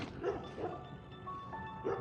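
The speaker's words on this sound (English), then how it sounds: "They're good dogs." Dogs yip and bark briefly outdoors during a run, a few short mid-distance barks over steady background noise.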